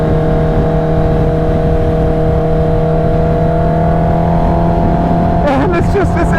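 A supercharged Kawasaki Ninja H2 motorcycle engine accelerates hard, a loud steady whine and roar rising in pitch over several seconds, with a voice breaking in near the end.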